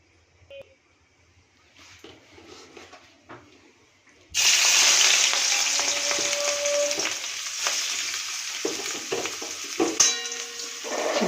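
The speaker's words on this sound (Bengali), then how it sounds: "এবার চিংড়ি মাছটা ভেজে নেবো" Prawns coated in salt and turmeric drop into hot oil in a wok after a few quiet clicks, then a loud sustained sizzle and spatter continues close up with occasional clinks, no speech.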